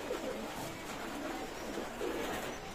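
Soft, low cooing of a pair of teddy pigeons, likely a baby pair, repeating in gentle swells over a steady background hiss, with no talking.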